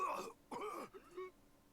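A character in the Danganronpa V3 video game coughs and groans in distress, three harsh strained bursts close up, the last weaker and trailing off.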